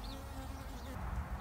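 Honeybees buzzing close by during queen cell grafting at an open hive frame, a soft continuous hum with a few individual bees flying past near the microphone.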